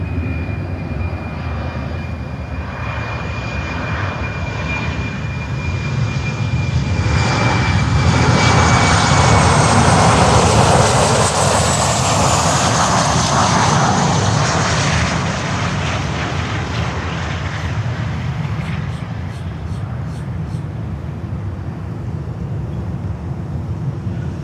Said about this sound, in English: it looks like DHL coming over